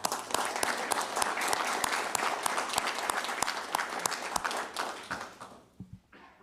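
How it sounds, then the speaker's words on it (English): Applause from the audience at an Owensboro Board of Commissioners council meeting: dense, steady clapping from a roomful of people that holds through and then thins out near the end. "so let's give her a round of applause."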